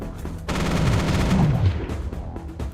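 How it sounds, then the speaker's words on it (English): Mech weapons in the video game Mech Armada open fire on a swarm of dinosaurs, a loud sustained burst of rapid gunfire lasting a couple of seconds with booming low impacts, then tapering off. "Select your mech, activate the weapon under Actions, and select the swarm to fire."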